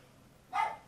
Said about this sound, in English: Oh gosh, this dog.